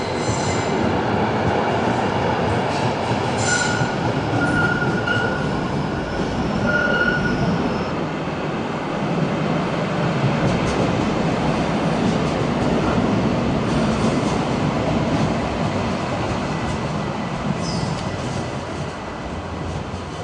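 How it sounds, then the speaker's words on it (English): An old heritage tram passes in Essen with a continuous close rumble of wheels on rails and occasional high wheel squeals, and no voices are heard. "It's a very old looking tram. Some kind of heritage service maybe."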